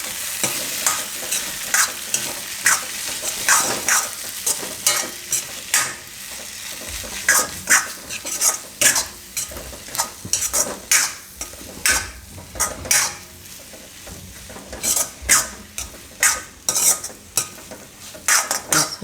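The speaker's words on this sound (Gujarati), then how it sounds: "હવે આ લીલા ધાણા નાખી દેવું એમાં અને મિક્સ કરી લઈએ બધું" A spatula scrapes and stirs grated paneer filling with peas and fresh green coriander in a pan for stuffed paratha, a steady series of close, rhythmic scraping strokes against the metal.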